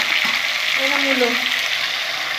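Beans and radish fry in a pan after tempering, a close, steady crackling sizzle filling the short moment without pause.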